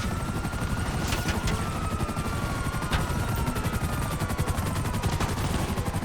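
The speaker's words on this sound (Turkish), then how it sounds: "Bir helikopter çaldım." Rotor whir of a stolen helicopter flying steadily in GTA 5, continuous and loud throughout, with bursts of gunfire and a few sharp whooshing passes layered over it, no talking.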